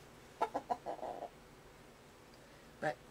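Wild bird clucking indoors, a quick run of four or five soft clucks followed by a pause and one more cluck, fairly faint and close in a quiet room.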